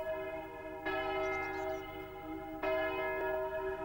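Church bells ring out at Easter in a resonant peal that sounds twice, each stroke leaving a long, rich hum that hangs between strikes, heard fairly faintly and alone.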